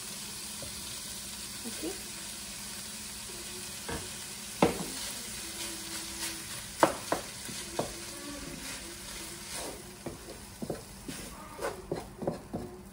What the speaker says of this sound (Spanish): ahora lo que vamos a hacer es que vamos a añadir la salsa